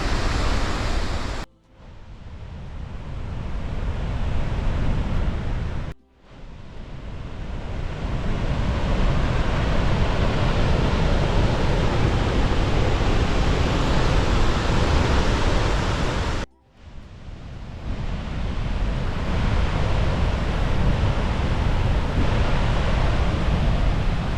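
Steady broadband rush of Victoria Falls spray, loud and close, continuous with a few brief dropouts.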